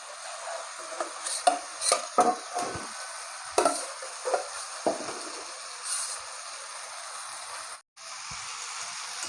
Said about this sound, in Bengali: এখন এই মাংসগুলো দিয়ে দেবো।